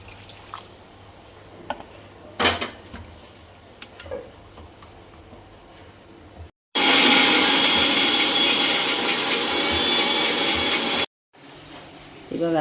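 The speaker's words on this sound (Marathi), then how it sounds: "मसाला मिक्सरमधून बारीक करून घ्या." A mixer grinder whirs loudly and steadily for about four seconds while grinding roasted masala for drumstick handi, after a stretch of quieter knocks and clatter from handling the jar.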